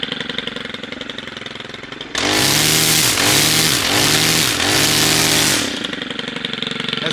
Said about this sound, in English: That's how to wire the weed eater and how to crank it.